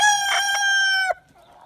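A single loud rooster crow rings out close by, one sustained call ending abruptly.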